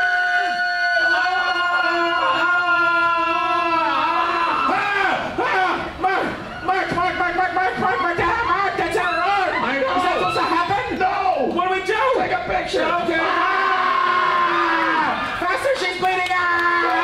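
An audience at a horror makeup show at Universal Orlando screams and yells together, a loud sustained burst of many overlapping voices with shouts and cheering rising and falling throughout.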